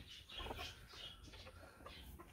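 Chinese silkie chickens clucking and murmuring close by in a busy coop, short overlapping calls over a steady low rumble.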